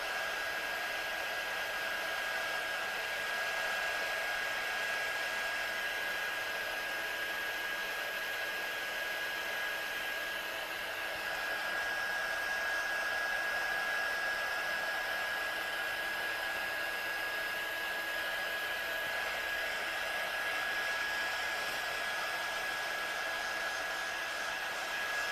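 A hair dryer or heat tool blows steadily on a watercolour card background for papercraft, giving a continuous loud whooshing hum with a fixed whine that runs unbroken the whole time, with no talk.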